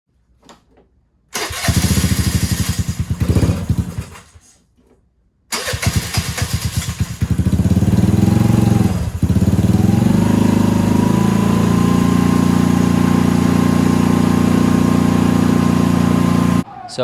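Vespa LX 150 scooter fitted with a Fly 150 carburetor: two short cranking bursts fail, then the engine catches, revs and settles into a loud, steady idle close by.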